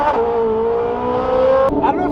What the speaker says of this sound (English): I don't know if you guys can hear me over the FI exhaust